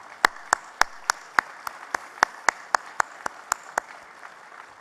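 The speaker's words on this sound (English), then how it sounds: "please join me in giving them a round of applause" Sparse, scattered handclaps from a small breakfast-event audience, a dozen or so distinct claps spaced irregularly, fairly close and moderately loud, with no voices.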